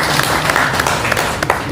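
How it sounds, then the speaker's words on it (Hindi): An indoor audience claps together for someone speaker at a motivational talk, a steady, loud burst of applause that lasts under two seconds. "मैम के लिए तालियां एक"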